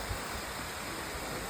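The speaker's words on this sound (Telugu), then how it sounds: "మనం రెగ్యులర్గా ఇలాంటి వాటర్ ఫాల్స్ ఎంజాయ్ చేస్తాము." Steady rushing water from a small waterfall in the Nallamala forest, a continuous broadband roar heard close and fairly loud throughout, with no voices over it.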